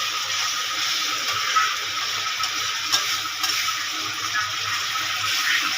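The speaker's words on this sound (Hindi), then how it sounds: "पानी टिके दिया" A little water poured into thick crab masala in a pan, a steady hissing, rushing wash of liquid and sizzle lasting several seconds at an even level.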